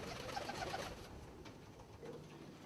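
Frill pigeons, a barred variety with gold collars, cooing in a loft, with soft repeated coos clear at first and then fainter amid low background murmur.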